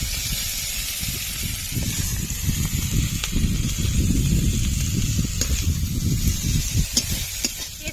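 Prawns frying in hot oil in a pan for an echor chingri dish, giving a steady crackling sizzle with scraping stirs and occasional sharper pops, close and continuous throughout with no talking.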